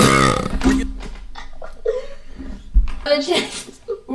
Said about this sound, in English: Rex just burping like that is so mean